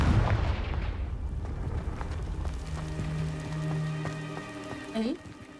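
A Confringo fire-spell blast in Hogwarts Legacy: a loud, crackling burst at the start that quickly fades into a noisy, rumbling game soundscape with scattered tonal effects.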